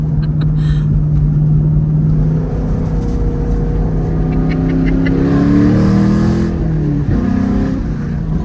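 A Camaro SS1LE with manual transmission accelerating hard while held in second gear, engine note climbing steadily in a loud, close, sustained rev from inside the car before easing off near the end.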